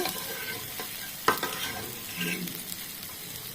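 Potatoes are tipped into a pan of sizzling meat, giving a sharp clatter followed by a steady, close frying hiss.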